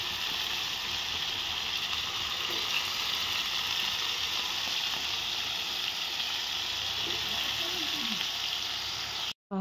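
Potato vegetable dish cooking in a pan, giving a steady, close, continuous sizzle and bubbling that holds at an even level throughout, with no talking and an abrupt cut at the very end.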